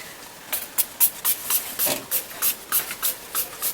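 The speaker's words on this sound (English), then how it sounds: "I'm just gonna spray some in my hand." Short hissing spray bursts from an aerosol body spray can, fired close by into a hand in a steady series of quick puffs.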